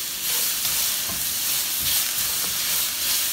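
Vegetables, including mushrooms and onions, being stir-fried in a pan for a glass noodle stir fry. A loud, steady hiss of sizzling fills the whole stretch, with a few faint scraping strokes beneath it.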